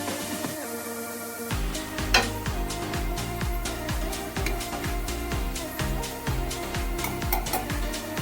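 Crispy snacks frying in hot oil and being turned over in the pan, a steady sizzle with clinking of a utensil against the pan and regular scraping as the pieces are flipped.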